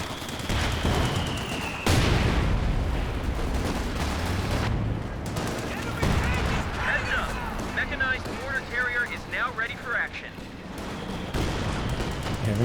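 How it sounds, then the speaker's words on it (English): A white phosphorus artillery barrage in Company of Heroes 2 lands with sharp blasts and crackling bursts over rumbling battle noise, while a commentator talks over the action. "Got the white phosphorus barrage on them."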